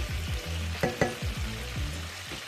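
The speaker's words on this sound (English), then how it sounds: "So we want to go ahead and get this to simmer for about 2 minutes" Chicken broth for shrimp scampi bubbles and sizzles in a pan, with a close, steady frying hiss and scattered soft pops and clicks.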